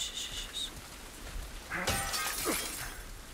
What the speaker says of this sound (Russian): Я думаю, кто это стекла бьет.